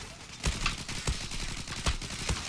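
Gunfire in the online shooter Zula, with a series of sharp, evenly spaced shots over a dense, noisy battle background, heard loud and close.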